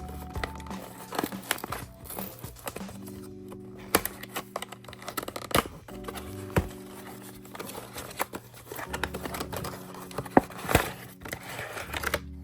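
Foil booster packs of the One Piece OP11 card game being torn open and handled, a run of crinkly crackling and rustling with sharp tearing bursts, close and fairly quiet, no talking.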